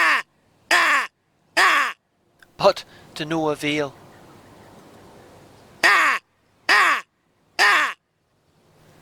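Loud, harsh caws from a handheld Nordic crow call imitating hooded crows come in spaced bursts of three, with a brief spoken phrase in between.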